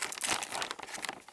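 A small plastic bag crinkles as a toy pony is unpacked, producing a close, continuous rustling and crackling with no talk.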